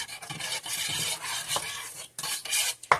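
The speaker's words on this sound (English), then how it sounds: "Lime and lemon juice. And our peels. Give that a quick stir." Lemon and lime juice with citrus peels being stirred into sugar syrup in a pot, a steady close swishing and scraping for about three seconds, with a brief clink near the end.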